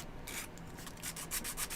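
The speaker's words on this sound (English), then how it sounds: "a little bit of sanding for this" Short rhythmic strokes of sanding on a wooden monowheel part, a steady back-and-forth rasp repeating several times, close and alone.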